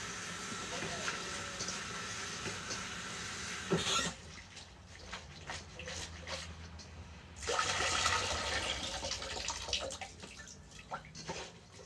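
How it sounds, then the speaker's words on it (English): Tap water runs strongly into a sink while lettuce is washed, a loud gushing stream that stops and restarts, with softer splashing and drips between and a voice talking. "I'm just going to give my lettuce a quick wash."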